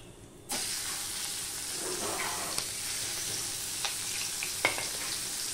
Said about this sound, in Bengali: পেঁয়াজটাকেও আমি লাল লাল করে ভেজে নেব।